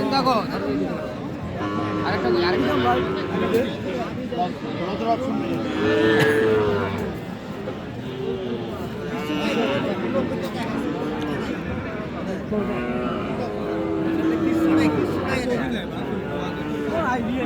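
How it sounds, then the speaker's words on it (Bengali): Sahiwal bull calves and cattle at a busy livestock market, with a steady crowd murmur throughout and a few faint low calls. People chat nearby the whole time. "গরুগুলা দেখেন, গরুগুলা পার্সেন্ট একের পার্সেন্ট"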